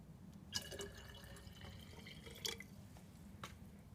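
Kerosene pours into a container in a light trickle, and a few soft splashes stand out from the faint liquid flow. No one talks.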